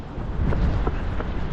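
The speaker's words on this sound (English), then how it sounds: "Very windy already." Strong wind gusts outdoors before a morning marathon, buffeting the microphone with a low, rumbling roar that swells and holds throughout the short stretch.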